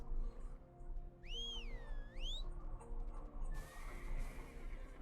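A horse in the game Black Desert on PS4 lets out a single loud rising-and-falling whinny, followed by faint hoof clip-clops and low ambient game sounds.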